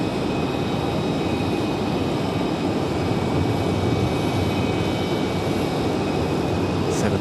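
A Delta airliner departing Raleigh-Durham International for Atlanta, a steady, broad engine roar at moderate distance with a faint high whine running underneath.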